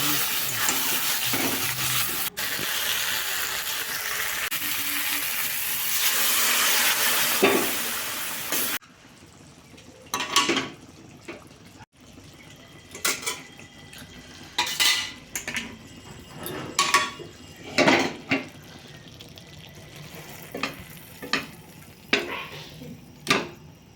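Marinated chicken going into a pot to cook: a loud hissing sizzle at first, then it cuts off to clinks and scrapes of utensils against cookware in short bursts.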